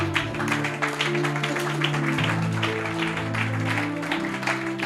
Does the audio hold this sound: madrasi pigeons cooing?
no